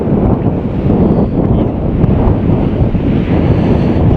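Steady gusting wind buffets the microphone, a loud low rumble that continues throughout with no voices.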